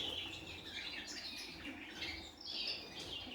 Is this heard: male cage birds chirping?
yes